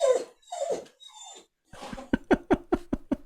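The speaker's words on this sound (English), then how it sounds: "The saddest dog." A dog gives a few soft, high whimpers followed by a quick series of short rhythmic whines or yips, close and fairly faint, with no one talking.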